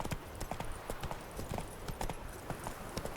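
Horse hooves clip-clop in a steady walking rhythm in The Witcher 3, close and continuous, with no talk over them.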